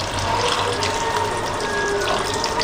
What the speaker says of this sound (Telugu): మనకి క్వాంటిటీకి తగ్గట్టు వాటర్ పోసుకుంటే